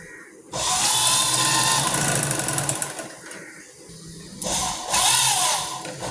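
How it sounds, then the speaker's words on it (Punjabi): A sewing machine stitches a kurti neckline in two close, steady whirring runs separated by a short pause, with no voices. "ਹੁਣ ਆਪਾਂ ਇਸ ਤਰੀਕੇ ਨਾਲ ਸਲਾਈ ਲਗਾ ਲੈਣੀ ਜੀ"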